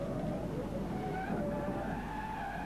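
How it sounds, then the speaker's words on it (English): Racing truck at the 1994 European Truck Racing championship braking hard for the old hairpin and sliding sideways into the gravel trap, a steady loud skidding rumble with engine noise running throughout. "A big sideways moment as he goes onto the brakes for the old hairpin, off into the gravel trap"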